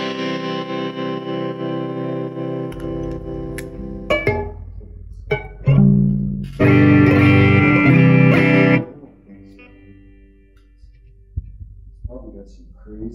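Electric guitar sounded by a magnetic pick held near the strings, sustained droning chords with distortion and effects, then choppy bursts and a thick loud swell, ending in scattered faint plucks.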